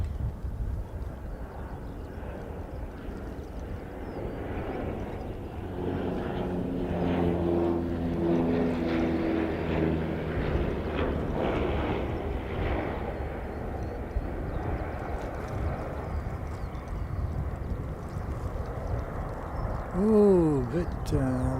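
Dash 8 turboprop aircraft propellers droning at a distance under heavy wind noise, swelling midway and then fading, with a voice speaking over it and a brief sharp chirp near the end.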